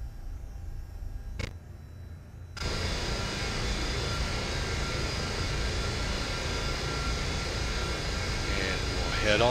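Cessna Citation II business jet taxiing in X-Plane 11, a steady broadband engine whine and rumble that starts abruptly after a quiet moment and holds even throughout, with faint radio-like clicks.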